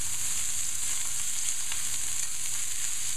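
Sausages fry in a pan with a steady, close hiss and crackle, shifting slightly as they are pushed around, made for a steak forestière sauce; no voices.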